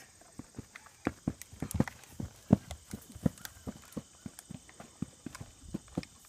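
A horse's hooves clip-clop at an even walking pace, with sharp, fairly close strikes repeating steadily and almost no other sound around them.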